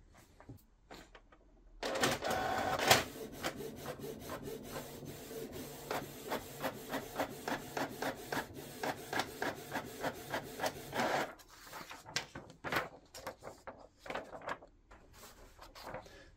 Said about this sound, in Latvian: Un mūsu testa lapa nāk ārā.